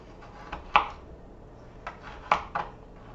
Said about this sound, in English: this is a pretty tough carrot, so I think I might just cut them this way